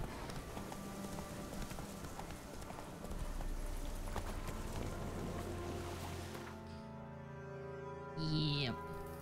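In a video game battle, horse hooves clip-clop in a rapid rhythmic patter under faint background ambience, fading out before a short tonal effect near the end.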